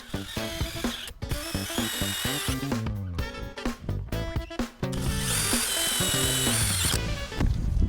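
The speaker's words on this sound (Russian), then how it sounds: "Металл взяли двойку, сверлится не очень легко." A power drill whines and grinds through 2 mm sheet-metal greenhouse profile in several bursts, loud and close, with brief pauses and changes in pitch as it bites.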